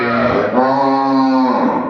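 A Nili-Ravi buffalo on a farm gives one long, deep lowing call, loud and close, lasting nearly two seconds.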